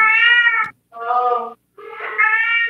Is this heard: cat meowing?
yes